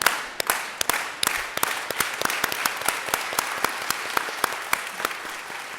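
A large audience applauds at a talk-show event honoring Dolores Huerta, a dense, sustained wash of clapping with sharp individual claps standing out near the microphone, steady throughout with no voices.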